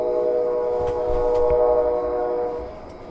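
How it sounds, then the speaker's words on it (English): A train passes with a steady, loud rumble and a sustained horn-like tone that holds for a couple of seconds, then fades slightly as it moves away. "Yeah. Train."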